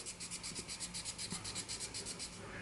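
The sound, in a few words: hand sanding a pipe stem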